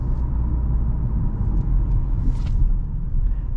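A 2023 Toyota Camry with an 8-speed automatic rumbles along the road during a brake test, heard from inside as a steady low road and engine drone, with no voices.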